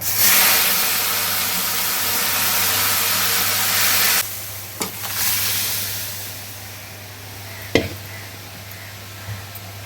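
Dal poured into hot panch phoron tempering for moong dal with vegetables, a loud steady sizzling hiss for about four seconds that then drops to a quieter simmer, with a few clicks and a utensil knock.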